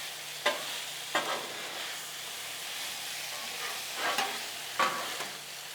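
Chicken, broccoli and onions stir-fry together on a Blackstone griddle, a steady hiss of sizzling under repeated metal spatula scrapes and taps at an uneven pace, close by with no talking.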